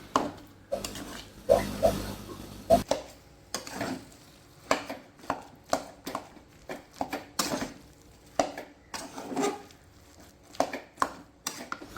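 A spoon scrapes and stirs a thick kappa biriyani mixture of cassava and beef curry into a paste in a pan, giving steady rhythmic scraping strokes with soft sticky squelches, close and moderately quiet, without voices.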